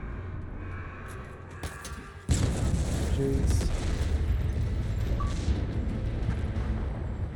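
Booming explosions like fireworks in the Halo Infinite video game, a sudden loud blast bursting in at about two seconds and then a sustained, dense roar of rumbling detonations; a short exclamation is spoken early on.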